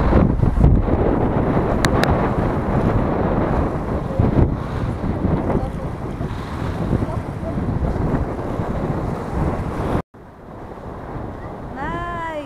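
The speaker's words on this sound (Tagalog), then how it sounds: "Malakas lang talaga yung ano, yung hangin." Strong coastal wind at San Benito Fort on Siargao Island buffets the microphone in a continuous roar, with a brief drop near the end before the rumble resumes.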